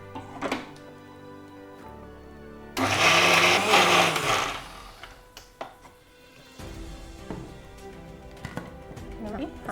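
A mixer grinder whirs loudly for about two seconds as it grinds masala into a paste with water, then stops. Someone talks before and after the burst.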